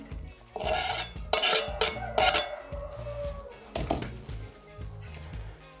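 A spoon scrapes and clinks against a bowl while tortilla pizza filling with chopped green onion is stirred, giving a few bursts of close clattering over a low background hum.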